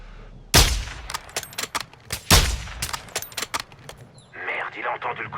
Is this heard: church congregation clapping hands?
no